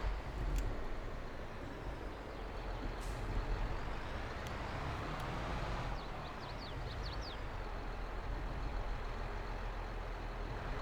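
John Deere tractor backing up in Farming Simulator 22, a low steady engine rumble with brief hissing air-brake bursts and a few faint chirps, continuous and fairly quiet.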